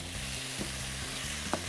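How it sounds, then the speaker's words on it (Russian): Finely shaved young veal sizzles and crackles steadily in a hot frying pan, with a couple of brief stirring clinks from a utensil against the pan; no talking. "Вот я быстро обжариваю мясо."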